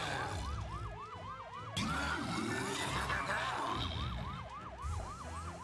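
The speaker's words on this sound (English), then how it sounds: "I like his cute little siren." A cute little siren on a vehicle in the Luigi's Mansion 3 video game wails in a fast repeating whoop, steady and prominent, over a busy bed of game music and effects.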